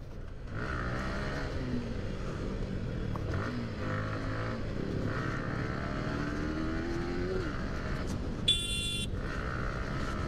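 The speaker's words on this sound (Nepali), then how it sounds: "म बाइकमा जाँदैछु" A motorbike ride, its engine droning steadily beneath heavy wind buffeting for the whole stretch, with a brief sharp electronic beep near the end and no talking.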